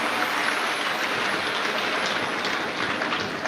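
An audience at a Shiv Mahapuran religious discourse in Rajnandgaon, Chhattisgarh, claps steadily to welcome the host family, a dense, even wash of applause that holds at the same loudness throughout.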